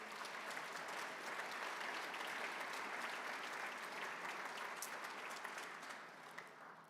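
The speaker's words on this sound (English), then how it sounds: "please give them a round of applause for all their hard work" Banquet audience at a golf awards dinner applauding, a dense, even roar of many hands clapping that holds steady for several seconds before thinning slightly at the end.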